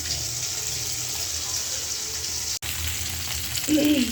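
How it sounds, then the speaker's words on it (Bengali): Foli fish pieces fry in hot oil with a continuous close sizzle, briefly cutting out once midway, with a short clink of cookware near the end. "তো আমি মাছগুলো ভাজি করে নিই।"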